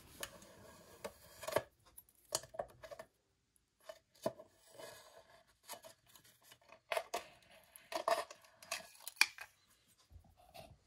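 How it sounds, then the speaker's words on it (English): A sharp knife scrapes and cuts holes in a copper head gasket for a Kawasaki Z1, heard as close, irregular scratchy strokes and clicks separated by brief pauses. "Then, using a sharp knife, cut out the holes."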